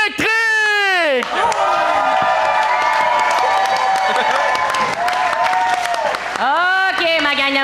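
Studio audience at a televised French-language talent show cheering and clapping for performers, a loud sustained roar with shouts layered over a singing or sustained voice at the start and end.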